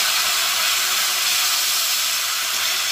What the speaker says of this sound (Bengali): আমি অল্প একটুখানি জল এখানে কিন্তু দিয়ে দিচ্ছি।